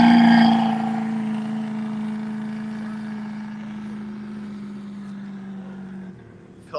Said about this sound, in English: Car sounds like the business end of an angry badger.